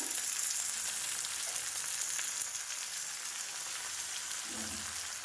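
Tomatoes go into a hot frying pan for a Bengali chorchori with onions. A steady, close, hissing sizzle runs throughout, with a soft stirring or scraping sound near the end and no talking.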